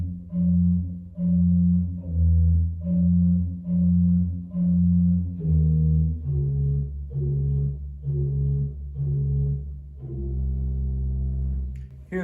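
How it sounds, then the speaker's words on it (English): On the C.B. Fisk Opus 145 pipe organ, the pedal 16-foot and 8-foot stops play together in a slow, detached bass melody, about a dozen full, resonant notes in steady rhythm with brief gaps. "they're often used together as a 16-foot and 8-foot combination,"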